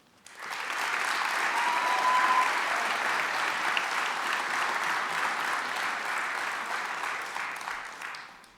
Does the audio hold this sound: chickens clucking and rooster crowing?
no